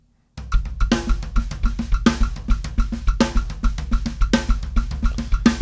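A drum groove with crisp hi-hat hits on the upbeats locked to a steady bass drum pulse, played close and evenly.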